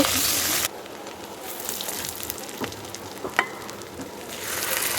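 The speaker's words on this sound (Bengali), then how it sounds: "ভালোভাবে একটু পেঁয়াজটা ভাজা ভাজা করে নেব" Onions sizzle loudly in hot oil at first, then the frying settles into a quieter crackle with occasional clinks of stirring.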